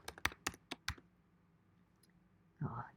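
A handful of quick keyboard keystrokes in a burst near the start, crisp and close, then a quiet pause before a brief louder rustle at the end.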